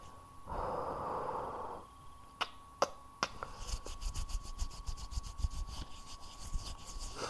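Cold hands rub together up close, first a soft whooshing swipe, then a few sharp clicks, then quick repeated rasping strokes that keep going steadily.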